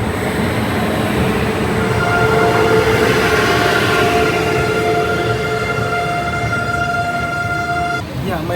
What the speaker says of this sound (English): First time on a sleeper coach on Indian Railways.